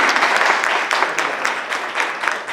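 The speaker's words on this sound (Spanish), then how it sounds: "Vamos, aunque seamos poquitos, darle un aplauso de motivación," Applause from a small audience at a mindfulness conference, a few dozen hands clapping with individual claps audible in an uneven patter, fairly close and loud.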